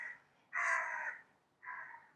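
A crow caws three times from a short distance away, and the middle call is the longest and loudest. Nothing else is heard around the calls.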